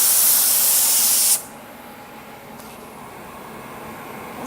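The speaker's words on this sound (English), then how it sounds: "We spray activator at around 17," A steady, loud hiss of a spray gun blasting activator at about 17–18 psi onto carbon film for over a second, then cutting off to a low background hum.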